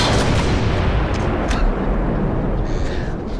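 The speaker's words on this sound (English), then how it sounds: "I have just fired one of the only 2 working 6-inch Mark 7 guns in the entire world." A 6-inch Mark 7 naval gun firing, heard as a heavy, sustained booming roar with rumbling low end that fills the whole clip and slowly decays.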